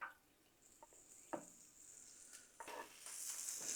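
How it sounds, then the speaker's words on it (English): Meatballs sizzle quietly on a Blackstone griddle with a soft frying hiss, broken by a few light taps of tongs, and the sizzle grows louder toward the end. "There you go, the meatballs are cooking"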